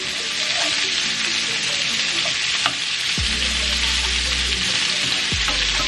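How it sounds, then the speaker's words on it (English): Vegetables sautéing in oil with brown sugar, a steady broadband sizzle throughout with a couple of low scraping thumps as the pan bottom is stirred, close and fairly loud, no talking. "going to saute this and make sure you scrape off the bottom, the remnants of the brown sugar and the oil, and mix that up real well."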